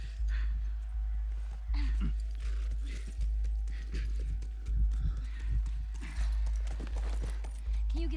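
Horse hooves clip-clop in a steady rhythmic gallop through The Last of Us Remastered video game, loud and close with low rumbling game audio, a brief whinny and occasional voices over it.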